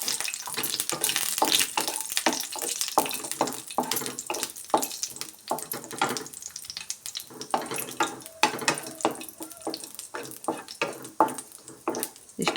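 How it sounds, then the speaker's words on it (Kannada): Cashews frying on a low flame for shavige payasa, a soft steady sizzle broken by frequent scraping strokes of a spoon stirring in the pan, close and fairly quiet. "ಫ್ಲೇಮ್ ಕಡಿಮೆ ಇಟ್ಟು ನಾವು ಫ್ರೈ ಮಾಡ್ಕೊಳ್ಬೇಕು"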